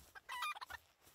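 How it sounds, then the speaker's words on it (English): Chickens in the video game Palworld give a brief, faint burst of clucks, a few quick chirpy calls in close succession. "I hear chickens"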